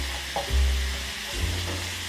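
Shrimp sizzling steadily in a hot pan, butter added, with a couple of soft low thumps and scrapes from handling the pan under the continuous close frying hiss.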